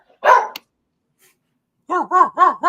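A dog gives one loud close bark, then after a pause lets out a rapid burst of four sharp barks in a row, with no talking over it.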